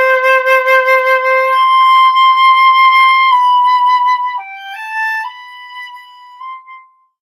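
A flute plays a short melody beginning on C, clear sustained tones stepping through several notes over about seven seconds, alone with no talking, ending in a quiet fade.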